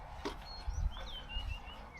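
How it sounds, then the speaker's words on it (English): Birds chirp and tweet with thin, high whistled calls in a quiet residential neighborhood, with soft low rumbling in the background and no talking. "You see that bird? You see let's just try to listen to the birds here."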